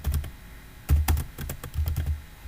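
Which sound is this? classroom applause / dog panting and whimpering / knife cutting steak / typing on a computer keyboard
typing on a computer keyboard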